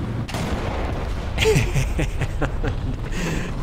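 Heavy 15cm gun on a Sturmpanzer II firing in the War Thunder tank game, a single booming shot near mid-clip over a constant background of battle and engine noise.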